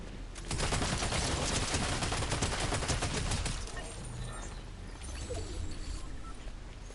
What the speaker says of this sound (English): Shotgun again.